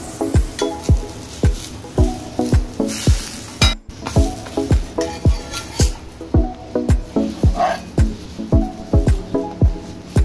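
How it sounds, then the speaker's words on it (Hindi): A sandwich is pressed down and cooks in a hot pan, giving a steady sizzle broken by a quick, regular series of sharp clinks and taps from the utensil, close up and fairly loud, with no voices. "इसे हमें अंदर तक दबा दबा कर इस तरह से इसको पकाना है"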